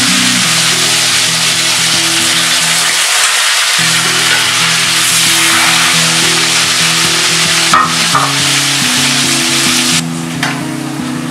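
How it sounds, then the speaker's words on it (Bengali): Potatoes frying in oil for a beef kacchi biryani, with a steady close sizzle and occasional stirring scrapes throughout, a brief quieter gap midway, and no talk. "আলুটা ভাজা হয়ে গিয়েছে"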